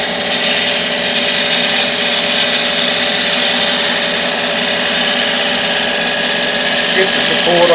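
Rough turning on a wood lathe, a loud, continuous whirring hum with a steady grinding tone from the spinning blank and cutting tool, unbroken for the whole stretch.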